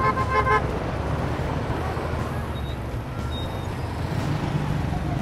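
Dense night road traffic in the Philippines, a steady engine rumble with a few short car horn toots early on, heard from inside a slow-moving vehicle edging through congestion.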